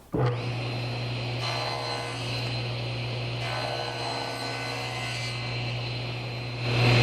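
A steady power-tool whine with a strong low hum runs near and loud for several seconds as a bevel is cut across the end of a wood piece with a router, with no talk.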